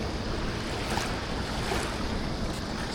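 Choppy, swollen Missouri River water slaps and washes around a kayak in a dense, steady churn of splashing with wind buffeting the microphone, close and continuous.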